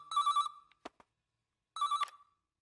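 Telephone ringing indoors, two loud electronic ring bursts separated by a short pause, with a brief click between them and nothing else audible.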